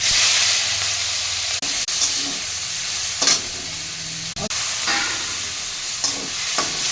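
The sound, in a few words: frying nigella seeds, dried chilli, green chilli and ginger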